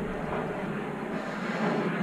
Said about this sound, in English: sorry about that plane noise.